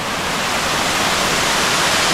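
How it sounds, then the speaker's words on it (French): A waterfall in El Salvador cascading down rock steps: a dense, even hiss of rushing water, close and constant throughout, with no voices. "Regarde-moi ces escaliers de cascade."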